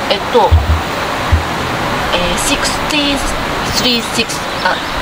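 Water flows continuously from a natural well at a shrine near Matsumoto Castle in Japan, giving a steady, loud rushing wash. Scattered clatter, thumps and background voices come and go over it.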